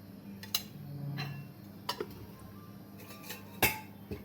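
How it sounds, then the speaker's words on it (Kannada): A metal spoon adds ghee to a pot of poppy seed payasa, making several sharp clinks and taps against the pot over a faint low background. "ಈಗ 2 ಸ್ಪೂನಷ್ಟು ತುಪ್ಪ ಹಾಕ್ಕೊಳ್ಳೋಣ"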